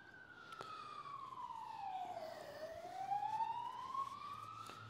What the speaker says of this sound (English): the reason why at times you hear so many sirens is because I live near a hospital